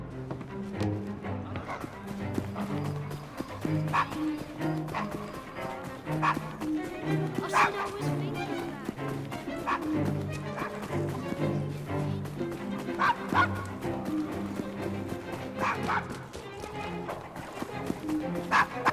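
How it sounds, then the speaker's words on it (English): A dog barks and yips repeatedly in the video game Assassin's Creed Syndicate, sharp barks at intervals over a steady background of music and ambience. "No, quiet! Bad dog!"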